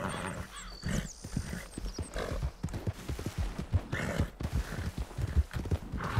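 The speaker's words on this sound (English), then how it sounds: "We got ourselves a horse, let's go." Horse hooves clip-clop at a steady walking rhythm in Red Dead Redemption 2 on PC, close and continuous, with scattered soft snorts and no talk.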